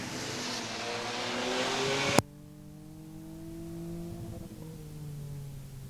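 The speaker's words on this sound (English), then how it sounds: "Whipple falls in line with the 16 of Bowley in tow down the front straightaway." V6/V8 enduro race cars thunder around Star Speedway, a loud close roar that cuts off abruptly after two seconds to a steadier, more distant engine drone with gliding pitch as cars circle the track.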